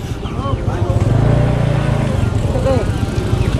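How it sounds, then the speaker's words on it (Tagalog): A motorcycle engine runs loud and steady during a mountain bike ride in Taliplip, Bulacan, rising and falling close by while people talk over it. "Lakas ng motor, oh."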